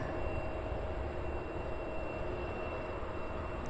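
A Delta Boeing 767-400 airliner, a steady low engine rumble with a faint high whine, heard from a distance as a constant drone with no voices.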